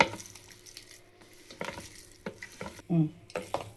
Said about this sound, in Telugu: ఇప్పుడు ఇవన్నీ బాగా కలిపేసుకుందాం